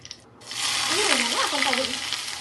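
Bay leaf and cumin dropped into hot oil for aloo curry burst into a loud, steady hiss after a brief knock, and a voice speaks over the sizzle partway through.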